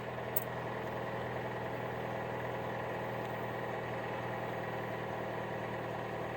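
A car engine idles steadily after a cold start in January, a low even hum with a faint vibration, quiet and unchanging with one brief tick near the start.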